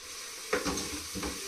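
Curry leaves and slit green chillies hitting hot oil in a pan, two short crackling sizzle bursts with light stirring, close and fairly quiet, no voices.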